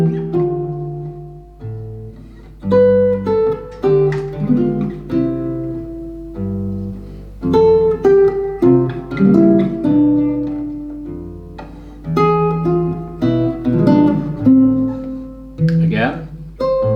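Solo guitar playing a chord melody, with diminished passing chords slipped in on alternate fourth beats; ringing strummed chords with a melody on top, steady and close for the whole passage, no talking.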